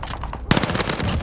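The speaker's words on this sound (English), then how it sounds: "Taking heavy fire." Heavy machine gun fire in a shooting video game, a dense, loud burst of rapid rounds cutting in abruptly after a brief lull and continuing without pause.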